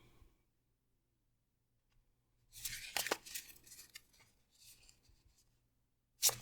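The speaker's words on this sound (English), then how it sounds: "And then I'm going to cut the deck for this one." A deck of tarot cards is cut and shuffled by hand in short, crisp bursts of riffling and slapping, close and fairly quiet, with a sharp snap at the very end and near silence before.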